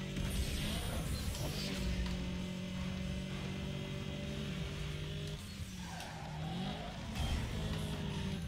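A car crashes in Need For Speed Underground 2, with sustained engine drone and tonal whine, then scraping and impact noise midway while the engine keeps running in the mix.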